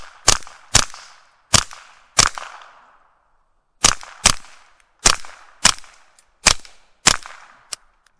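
Eleven suppressed gunshots from a Kel-Tec SUB2000 Gen2 9mm carbine with an AAC suppressor, sharp cracks fired outdoors in irregular pairs and singles with short decaying tails, loud and close.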